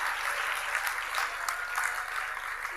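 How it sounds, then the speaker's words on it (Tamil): An audience at a Tamil comedy talk claps hands together in a steady, dense round of applause that fills the whole stretch without pause. "யார் யாருக்கு 10 வருஷம் எக்ஸ்ட்ராவாக இருக்கணும்னு நினைக்கிறீங்களோ அவங்க கைத்தட்டுங்க"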